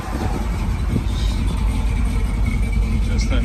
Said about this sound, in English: Just a nice running truck.